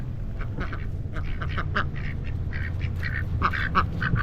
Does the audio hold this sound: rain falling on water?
no